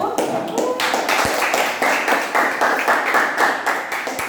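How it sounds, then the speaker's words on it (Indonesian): A classroom group claps for a presenting student team, a dense burst of many hands applauding steadily for a few seconds. "Kita sekali lagi kita berikan aplaus yang meriah untuk kelompok 1"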